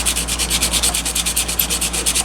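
Sandpaper of one grit rubs a vintage drill's housing in quick, even back-and-forth strokes, close and loud, each stroke a crisp rasp in a steady rhythm.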